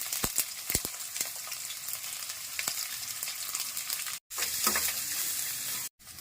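Shallots, garlic and onion fry in a pan with a steady sizzle, punctuated by sharp stirring clicks and two brief silent gaps.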